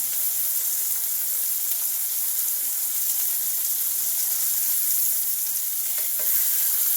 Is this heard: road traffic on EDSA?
no